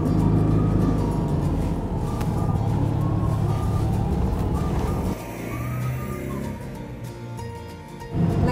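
A Citroën 2CV pulling away in the French countryside of Thiérache, its small engine buzzing and rising through a gear, then easing off with a shift before revving again, heard from inside the car.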